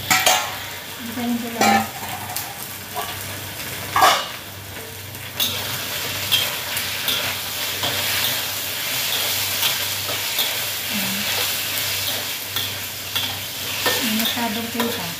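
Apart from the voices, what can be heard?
chicken sizzling as it is fried in a pan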